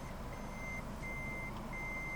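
Toyota Premio reversing beeps with the back camera on: a steady, moderately loud electronic tone repeating in long even pulses over a low engine hum, with no talking.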